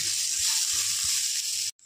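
Cinnamon, cashews and raisins frying in a pan, giving a loud, dense, continuous sizzling hiss with a low hum beneath that cuts off abruptly near the end.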